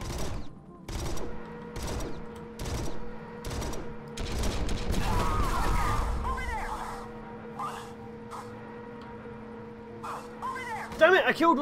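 A volley of shotgun blasts from a squad of troops in the video game Strain Tactics, with sharp repeated bangs early on and a rumbling burst in the middle, under a voice talking.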